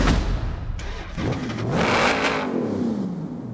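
A 2013 Jeep Wrangler Unlimited race build revs hard in one loud, close burst, the engine note climbing and sweeping up before easing back, with no voices over it.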